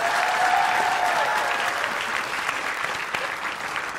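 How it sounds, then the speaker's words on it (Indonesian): A studio audience of about 350 people at a television talk show applauds steadily, a dense, even wash of clapping that holds for several seconds and fades slightly toward the end. "350 penonton yang menghadiri studio kita, bertepuk tangan semua."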